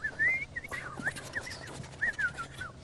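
A person imitates birds chirping in a forest with a series of short whistled chirps and rising-falling tweets, fairly close and moderately loud, broken by brief pauses over quiet room noise.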